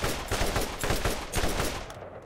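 Rapid gunfire from the Borderlands video game, a dense burst of shots fired in quick succession that stays loud for a couple of seconds before cutting off.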